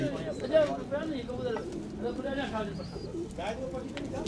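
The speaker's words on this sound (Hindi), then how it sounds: "ये ओरिजिनल तो सियालकोटी कबूतर है।" Soft, throaty cooing of Sialkoti pigeons repeats under a man's speech on a rooftop, with a faint higher chirp briefly near the end.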